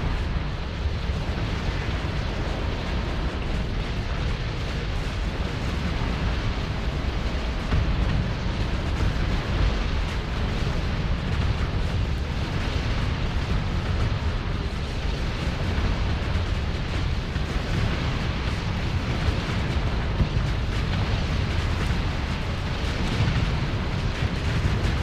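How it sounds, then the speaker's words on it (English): Sustained, loud barrage of sci-fi space combat in Starsector, with ion cannon fire and explosions blending into a dense, continuous roar of booms and bursts throughout, no voices. "we're lighting them up with the ion cannons and stuff"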